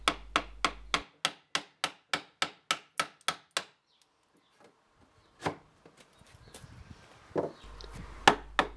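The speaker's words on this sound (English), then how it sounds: "select the chisel and start removing the waste from outside your line" A mallet strikes a chisel to pare waste wood from the rounded corner of a board, about a dozen crisp, evenly spaced taps close by, then a pause with light scraping and a few more scattered blows.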